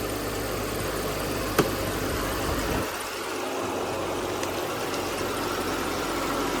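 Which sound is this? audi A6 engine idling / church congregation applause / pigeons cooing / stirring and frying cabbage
audi A6 engine idling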